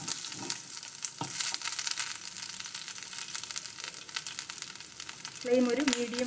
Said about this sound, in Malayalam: എന്നിട്ട് ഒരല്പം വെളിച്ചെണ്ണ ഒഴിച്ചു കൊടുത്തു. എന്നിട്ട് നമുക്കിനി ഇത് മറിച്ചിട്ട് കൊടുക്കാം.